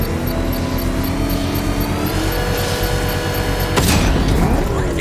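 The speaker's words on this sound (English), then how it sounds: "I can use the power winch to trigger a controlled explosion." A controlled bomb explosion in the video game Batman: Arkham Knight bursts loudly near the end, cutting through a dense, continuous wash of rumbling engine and mechanical game noise that runs throughout.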